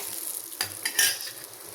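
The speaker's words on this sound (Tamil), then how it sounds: "ஜீரம் ரெண்டு போட்டுக்கிறோம் ரெண்டு உளுந்து சேர்த்துக்கிறோம் இப்படி அதை வந்து நல்லா எண்ணெயில் பொரிய விடுவோம்" Cumin, urad dal and whole peppercorns sizzle in hot oil for a short burst, with a brief scrape of a spoon and a rising crackle near the middle.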